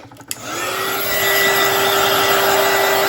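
A motorized tumbler cup turner hums steadily while applying epoxy, a loud continuous mechanical drone with a sustained whine that starts after a brief click and holds level throughout.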